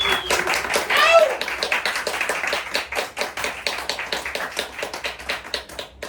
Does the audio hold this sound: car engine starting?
no